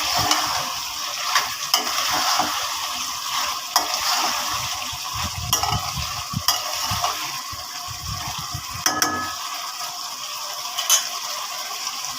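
Pre-fried potatoes, salted and turmeric-coated, stirred into a pan of beef liver bhuna, with close clattering scrapes and knocks of a spoon over a soft sizzle, then a quieter stretch.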